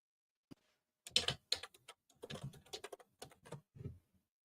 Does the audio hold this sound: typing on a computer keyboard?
yes